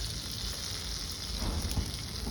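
Cumin seeds crackling in hot butter and oil in a flat kadai, a steady close sizzle with dense fine popping that runs continuously and evenly throughout.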